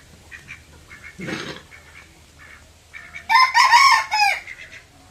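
Poultry outdoors: brief clucks and calls from chickens and ducks, then a loud rooster crow rings out near the end, close and clear over a quiet background.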